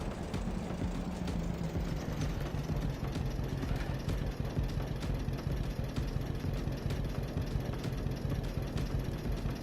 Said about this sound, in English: It's the only tractor we have with a tricycle wheel setup.